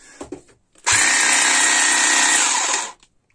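A battery-powered Posenpro power tool spins up after a few faint clicks and runs at a loud, steady high-pitched whine for about two seconds, then cuts off abruptly.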